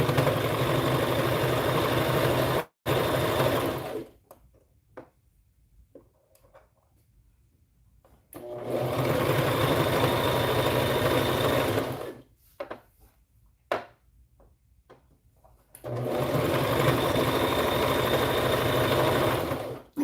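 A sewing machine stitches preemie shorts and a hat in three long, loud, steady runs of fast close motor whirring. Quiet pauses with small clicks and handling noises separate the runs.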